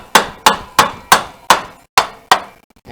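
Hammer tapping a part during a 4L60E automatic transmission rebuild, seven sharp, evenly spaced close strikes in a steady rhythm, each with a short ringing decay, with no voice over them.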